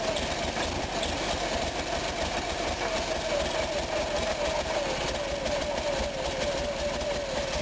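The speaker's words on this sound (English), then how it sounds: "I'm going to let my generator try to start up here." An Onan generator engine runs rough and steady while trying to start, a continuous close mechanical drone with a dense rattling throb and no clear catch or stall.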